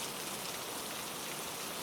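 Heavy rain falls in a dense, even hiss of countless drops on surfaces, steady and unbroken with no voices or other sounds.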